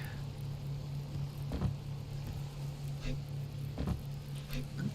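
Rain falls in the survival game Subsistence as a steady, faint patter over a constant low hum, with a couple of brief soft thuds.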